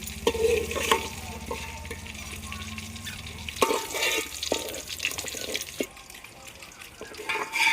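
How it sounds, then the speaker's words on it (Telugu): Potatoes fry in oil left over from frying paneer, cooked over a wood-fired stove, with a close, bubbling sizzle and repeated clattering stirs against the pan. "బంగాళదుంపలు కూడా ఇంక ఇదే ఆయిల్లో బాగా ఫ్రై చేసుకున్నాం"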